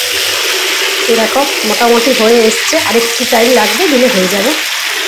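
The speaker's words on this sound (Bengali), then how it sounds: "ওখানে চিকেনটা ভাজা হচ্ছে" Chilli chicken sizzles loudly and continuously in a pan at close range while someone talks over the frying.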